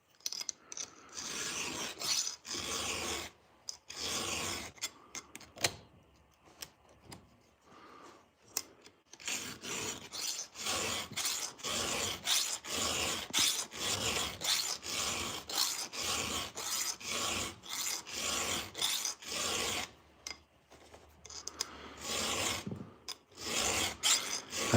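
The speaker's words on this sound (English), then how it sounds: "I've definitely gotten significantly better at hand filing since I started this 6 months ago." A chainsaw chain being sharpened by hand with a file in a garage, with rapid repeated rasping strokes in a steady rhythm and a few short pauses, close and clear with no talking.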